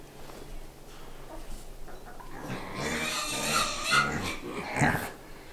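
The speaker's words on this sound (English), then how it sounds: "Inside the pen, two little potbelly pigs." Two little potbelly pigs in a farm pen give soft, snuffling grunts and rough rooting sounds, faint at first and then growing closer and busier.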